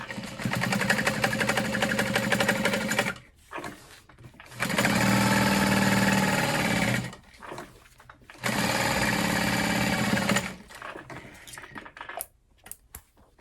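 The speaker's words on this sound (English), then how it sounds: "baste everything in place like we did on the other side" Sewing machine basting a handbag: three loud, close bursts of rapid stitching with brief quiet pauses between them, plus lighter handling noises in the gaps.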